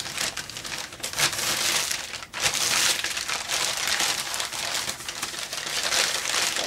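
Packing paper being crumpled and crinkled at a crafting table, a dense, continuous crackling rustle that stays loud and close throughout with brief dips in intensity.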